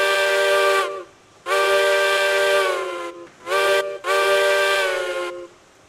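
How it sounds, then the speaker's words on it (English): Steam locomotive whistle in the railroad game Railroads Online, three loud blasts, two long and one short, with a soft steam hiss between them. "Nice whistle."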